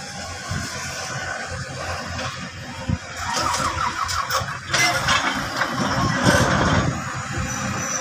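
A backhoe's heavy engine rumbles and revs steadily nearby on grey sand at Manila Bay, with clanking and a high squeal rising partway through, loud and continuous.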